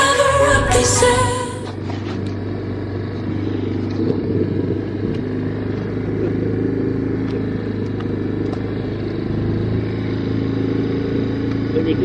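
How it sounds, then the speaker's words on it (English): Quad bike engine droning steadily while being driven outdoors in the outback, a continuous mid-pitched hum holding fairly even after a brief louder burst at the start. "Driving the quad bike"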